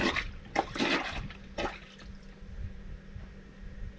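Water sloshes and splashes in bursts as laundry is worked with a plunger, several short surges followed by quieter trickling and dripping.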